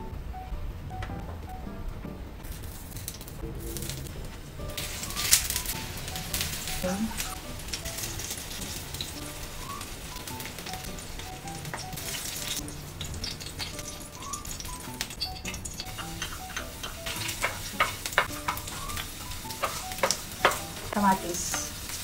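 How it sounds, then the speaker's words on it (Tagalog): Four pieces of eggplant fry in oil in a pan, crackling and sizzling continuously up close with scattered sharp pops and spatters, while a voice speaks faintly now and then. "So, piprito ko muna itong mga talong."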